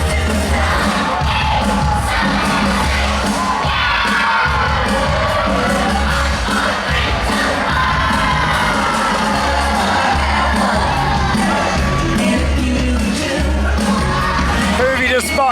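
Large crowd cheering and shouting at a Disneyland Paris New Year's Eve show, a dense continuous roar of voices with whoops and yells over loud amplified music.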